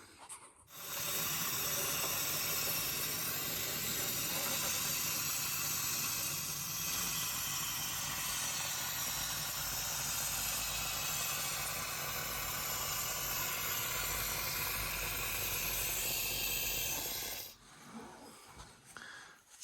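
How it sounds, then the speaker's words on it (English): Waxoyl rust protection sprayed through a probe into a body cavity of a Peugeot 205 1.9 GTI, a steady loud hiss held unbroken for about sixteen seconds before cutting off. "So I've sprayed a significant amount down in that area"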